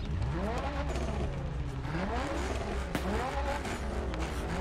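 A car engine in The Crew Motorfest revs hard through rising and falling gear sweeps, with a sharp turbo blow-off burst in the middle, loud and close throughout.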